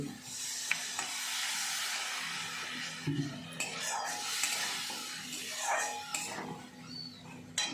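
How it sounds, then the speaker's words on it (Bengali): Spice paste frying in oil for a pangas fish curry, a steady soft sizzle and hiss with occasional stirring scrapes against the pan, under a voice talking. "মশলাটা কিন্তু কষানো হয়ে আসছে তেল ছেড়ে গেছে"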